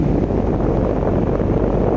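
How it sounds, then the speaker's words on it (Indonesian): A snowstorm's wind howls across a frozen ice field, a steady, dense roar of blowing noise that holds level throughout, loud and close with no voices. "Tiba-tiba badai salju datang menerjang."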